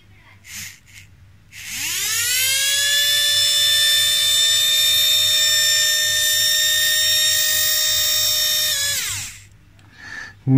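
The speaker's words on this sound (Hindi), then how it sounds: "तो आइए चेक करते हैं मोटर नंबर 3 जिसके ऊपर हमारा सारा फोकस है।" A small 130 DC motor spins up to a steady high-pitched whine, holds for several seconds, then winds down; brief noises before and after.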